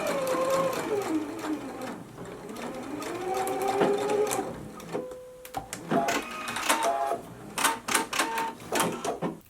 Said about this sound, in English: we can go to the machine and we can stitch this down at a 5/8 of an inch seam allowance